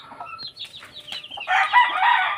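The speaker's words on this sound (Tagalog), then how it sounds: "Ang laking manok." A large gamefowl rooster on a game farm crows nearby after some clucking and squawks, the crow loud and sustained through the final second.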